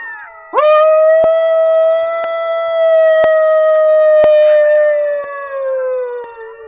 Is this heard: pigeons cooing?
no